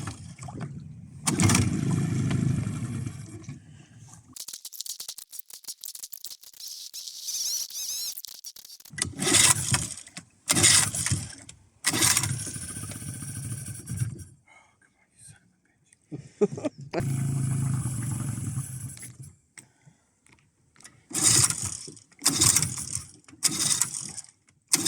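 A new boat's engine cranks in several bursts of grinding, whirring turnover and fails to catch, with pauses and voices talking between attempts.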